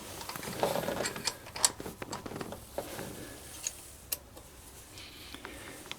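Small metallic ratcheting clicks as a set screw is tightened on a roller rocker arm of a Z28 engine, soft close-up tool sounds with a few sharper ticks and no talk.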